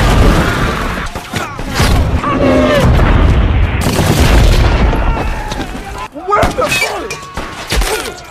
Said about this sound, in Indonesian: Ternyata gumpalan asap-asap dimanfaatkan tentara Jepang sehingga dengan mudah menembaki rekan-rekan Budi satu persatu